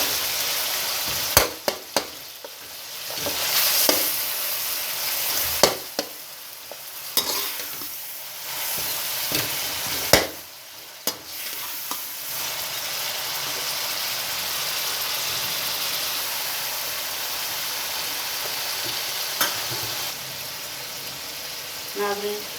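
Chopped tomatoes sizzle steadily in a frying pan for a chicken karela curry, with a spoon scraping and stirring in repeated clanks throughout.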